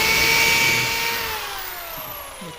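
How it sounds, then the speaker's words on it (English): Power drill driving a screw into a wooden wine rack with glass holders, a loud whining motor that slowly drops in pitch as the screw seats, ending in a brief knock, close by without speech. "put the screw in and then drill it down"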